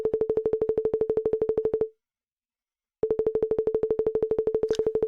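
Sonification tones from a synthetic MRI brain demo as slices change: a rapid, even train of identical short beeps at a steady pitch, then about a second of silence, then the beeping resumes just as loud.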